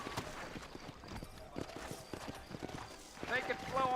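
Horses walking with steady, overlapping clip-clop hoofbeats in a Wild West video game, a voice speaking over them and faint chatter toward the end.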